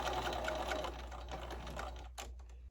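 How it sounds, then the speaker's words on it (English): A sewing machine stitches back and forth across a quilted potholder made from an old towel, running steadily and close for a couple of seconds before stopping abruptly. "we're going to then sew this in place. Go back and forth a couple of times."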